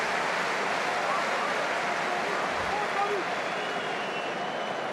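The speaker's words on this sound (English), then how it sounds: "They're being urged on now by the crowd, this partisan Italian crowd" A partisan Italian rugby crowd at a World Cup match against New Zealand makes a constant broad roar of urging and cheering that holds steady throughout, with indistinct voices mixed in.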